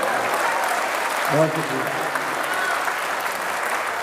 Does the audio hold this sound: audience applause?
yes